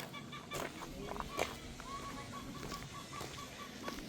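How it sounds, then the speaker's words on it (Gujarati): A hen clucks in short repeated notes at a moderate distance in a park, with other faint birds and light background noise around. "પેલી કુકડી કક કક કક કરે છે ઈંડું મૂકવાની લાગે છે"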